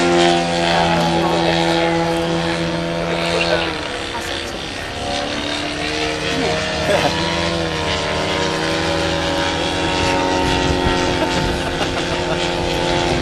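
Propeller display aircraft carrying wing walkers on gimballing mounts pull up into a loop at an air show, a loud steady droning engine roar with shifting pitch across the whole stretch, with faint announcer talk in the background.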